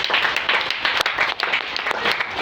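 A church congregation applauds for Jesus during a worship service, steady dense clapping filling the room loudly and continuously.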